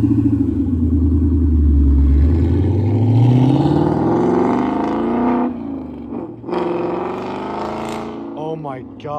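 A Ford Mustang 5.0 with a manual gearbox revs and pulls away, its deep engine note rising and falling loudly over several seconds before fading, with voices talking alongside.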